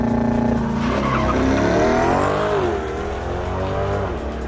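A Chevrolet C8 Corvette makes a launch-control start, its engine held at a loud, steady rev before surging into a hard, rising acceleration that climbs through gears as the car pulls away up close.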